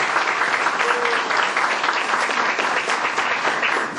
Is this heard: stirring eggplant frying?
no